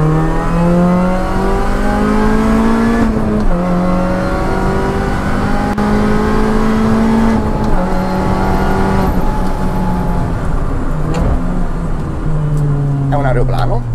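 A Mini Cooper S R53 engine, about 190-200 horsepower, revs hard throughout, rising in pitch through gear changes with a loud, continuous drone, and someone speaks over it.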